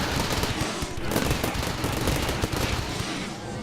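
Dense, continuous automatic gunfire from many weapons in the modded colony-building game RimWorld, a loud sustained barrage of overlapping rapid shots with no talking.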